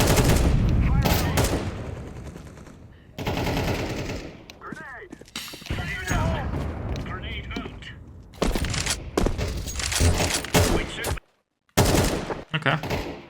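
Bursts of rapid automatic rifle fire in Counter-Strike 2, loud and close, coming in several clusters separated by short pauses, with a brief moment of full silence near the end.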